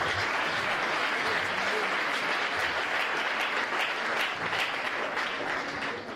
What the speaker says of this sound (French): On acclame pour le Seigneur Jésus.